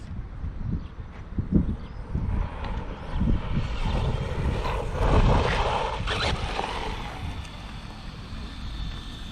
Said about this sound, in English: It screams, man. Yeah, completely full throttle.